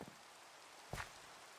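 Steady hiss of rainfall in a Minecraft forest, a constant close wash of drops with one brief louder thud partway through and no voices.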